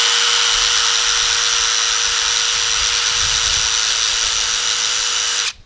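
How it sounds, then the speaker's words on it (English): A power drill whines at a steady high pitch for several seconds, loud and close, then cuts off abruptly. "I'm actually using a power drill"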